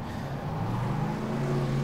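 1965 Howston G6 MkI race car in rFactor 2 at Longford, engine droning steadily with a rising, sustained tone as it brakes on the engine while downshifting, close and continuous with no talk.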